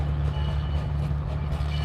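A gas-powered locomotive engine on a heritage narrow-gauge railroad runs steadily, a low throbbing drone with a strong rumbling hum and faint mechanical clatter, close and unbroken.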